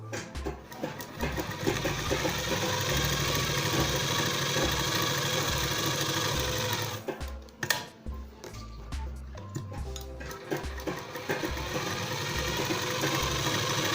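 A sewing machine runs steadily as it stitches a midi dress, a close, even mechanical whir with a brief stop in the middle before the motor picks up again.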